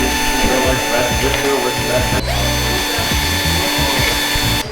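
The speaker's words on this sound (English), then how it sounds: "We're about to test it with the drill to see if it'll actually pick up the balls on the ground." A power drill spins a prototype robot intake wheel made of cardboard and rubber bands, whirring loudly and continuously with a rattling, grinding texture, close by, with voices talking faintly underneath.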